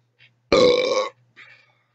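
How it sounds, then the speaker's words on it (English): A single loud, close belch lasting about half a second, with a strong tonal, buzzing quality. Faint small mouth sounds come just before it and a weaker burp-like sound follows shortly after. "I burp in every one of my videos, and I know why."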